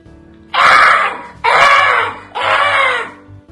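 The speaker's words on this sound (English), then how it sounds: "that is the sound a fox makes" A fox screams three times in a row. Each call is loud, harsh and drawn out, with short pauses between them.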